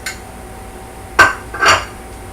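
Chopped onion going into a metal frying pan while cooking chorizo-stuffed poblano peppers, with two distinct clinks of utensil against pan a half-second apart over a quiet kitchen background.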